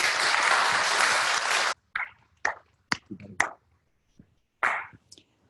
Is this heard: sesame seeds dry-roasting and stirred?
no